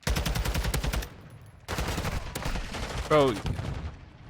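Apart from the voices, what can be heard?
gunfire in a video game shooter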